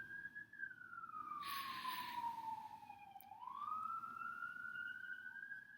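A single wailing siren rises and falls outside, moderately distant and faint, sweeping down and back up with a brief burst of higher noise partway through.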